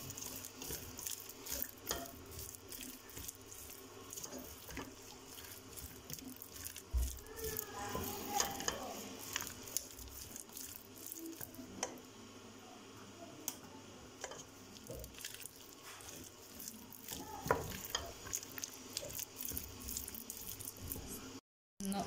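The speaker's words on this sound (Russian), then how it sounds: "Сейчас хорошенько перемешаю." Food is stirred while cooking, a faint wet squishing and scraping with scattered soft knocks and clicks spread over a long stretch, quiet and close, with a brief dropout near the end.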